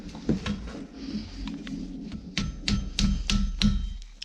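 Ball peen hammer striking a textured steel biscuit cutter as it is bent around, a series of sharp metallic taps, sparse at first and then a quicker run of strikes, close and moderately loud.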